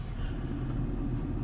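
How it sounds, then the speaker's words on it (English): A heavy diesel Ford F-750 dump truck idles with a low, steady rumble, close and continuous, while an excavator is unloaded from it, with no voices over it. "So let me get this excavator unloaded"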